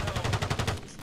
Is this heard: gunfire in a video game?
yes